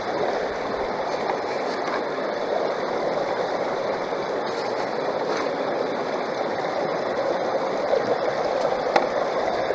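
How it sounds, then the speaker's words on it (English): Water from a stream running through a prospecting sluice on an outdoor creek gives a steady, loud, continuous rush and gurgle with no pauses. "Got good water flow."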